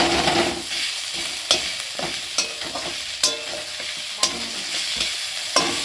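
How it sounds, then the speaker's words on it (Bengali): Green chillies fry in hot oil in a home kitchen pan with a soft continuous sizzle, broken by sharp spatula clacks against the pan every second or so, close up and without talk. "দেখো লঙ্কাও কিন্তু এখন দিলাম, কারণ এগুলো কিন্তু ভালো মতন ভেজে"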